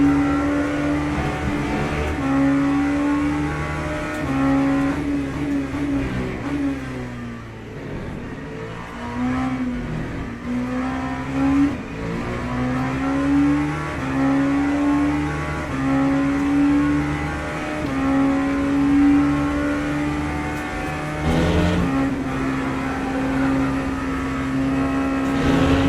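An LMP3 prototype race car engine in Le Mans Ultimate, a steady droning howl that climbs and falls through gear changes and braking, loud and continuous with no talk over it.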